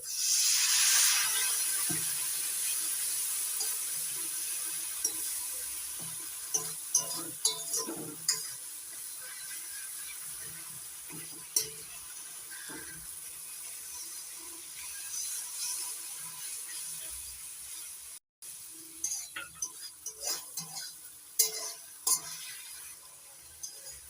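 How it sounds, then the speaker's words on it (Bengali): Spice paste loosened with water from rinsing the spice bowl is stir-fried in a pan for a jackfruit curry, a soft continuous hiss broken by intermittent scraping and clacking stirs, with no talking. "এবার মশলা বাটি ধোয়া জল দিয়ে একটু মশলাটা কষিয়ে নিচ্ছি"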